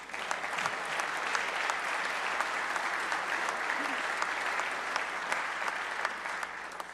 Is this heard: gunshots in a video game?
no